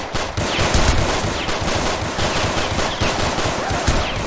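Rapid bursts of gunfire from a video game, clustered shots crackling loudly one after another in an uneven rhythm, with no voices over them.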